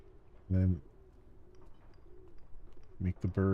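Pigeon-like birds coo in the Eriksholm: The Stolen Dream game, two deep harmonic calls, one early and one near the end, over a low ambient bed.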